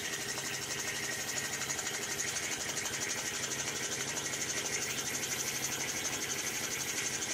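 A small Empire B31 model engine with a heavy cast iron base and frame runs steadily on its own, giving a continuous, even mechanical whir with a fine rapid ticking texture at close range.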